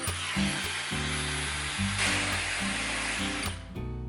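A hair dryer blows with a continuous whooshing hiss while styling bangs, its pitch and airflow shifting as it moves close and then eases off near the end.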